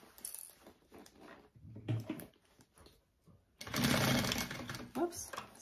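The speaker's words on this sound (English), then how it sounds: "And sew that closed. 3/8 of an inch." A sewing machine stitches a crossbody bag closed, first in short bursts, then in a louder steady run near the end, with a person talking over part of it.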